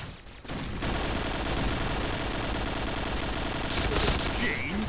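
AUG A3 Samurai rifle fired in the online shooter game Point Blank: dense, sustained automatic gunfire rattles loudly and continuously for several seconds with little pause.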